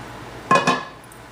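Garlic soup being transferred into a serving bowl, two quick clinks of utensil or pot against the dish in close succession, brief and fairly loud against a quiet room.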